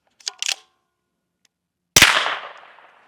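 One sharp, loud shot from a Smith & Wesson FPC carbine at a shooting range, ringing out after a few soft clicks and handling sounds.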